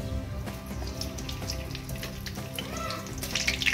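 Washed curry leaves frying in oil, a soft crackling sizzle with scattered pops, fairly quiet and steady, with faint clinks of utensils and no voices.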